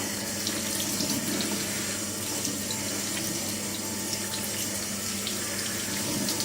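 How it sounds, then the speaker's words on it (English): A sink tap runs at gentle pressure while a synthetic wig is rinsed beneath it, a steady close hiss of flowing water with no talking. "Don't run the tap really powerfully. Just rinse it through like this until all of the water is clear"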